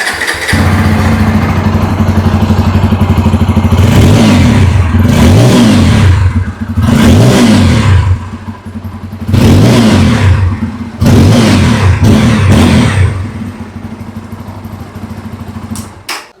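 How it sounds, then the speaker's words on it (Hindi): A 2026 Bajaj Pulsar N250 motorcycle, a 250cc bike, idles with a steady low exhaust burble, then revs sharply in four loud throttle blips before settling back to idle. "आइए अब सुन लेते हैं इस बाइक की एग्जॉस्ट नोट।"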